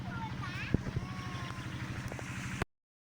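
A small motor runs beside the water at an outdoor bathing spot, giving a steady pulsing low rumble mixed with wind buffeting before it cuts off abruptly.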